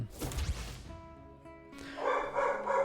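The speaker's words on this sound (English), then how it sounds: "Holy cow, the dogs are going crazy." Dogs barking in The Last Spell video game, a short volley of sharp, close barks and yips at the start, a brief tonal pause, then a fresh burst of agitated barking toward the end.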